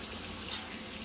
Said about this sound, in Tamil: மசாலா தடவி வச்சுட்டு பொரிக்க போகிறேன்.